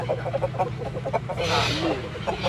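A fighting rooster clucks in short repeated bursts, close by, with a brief rush of noise midway and a voice talking underneath.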